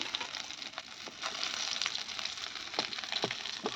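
Fish fry in hot oil until reddish, giving a continuous close sizzle dotted with sharp crackles and pops and no talk.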